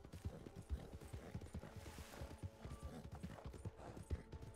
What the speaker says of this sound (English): Oh, that's your horse.